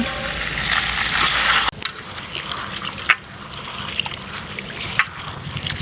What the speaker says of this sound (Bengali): কলাইটা আমি জল দিয়ে এখন ভালো করে ধুয়ে নেব।